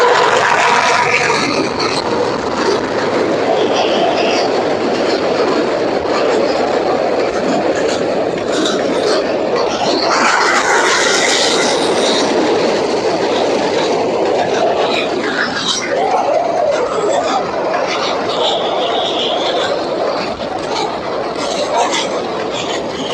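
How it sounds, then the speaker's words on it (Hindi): A Pakistani passenger train rolls along the track beneath the Malir Expressway in Karachi, a loud, steady rumble with clattering wheels and rail noise that holds throughout at close range, with no talk over it. "एक खूबसूरत पाकिस्तानी ट्रेन रेलवे ट्रैक पे दौड़ती हुई दिखाई मैंने आपको"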